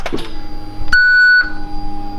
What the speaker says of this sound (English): I don't know what the beep means.